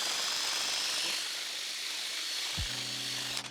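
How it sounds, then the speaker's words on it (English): A drill spins a wood dowel against sandpaper, giving a steady high-pitched abrasive whir that stays faint, then winds down near the end with a low motor hum. "But I put it in my drill chuck. I tighten it and I'll just put it in the sandpaper"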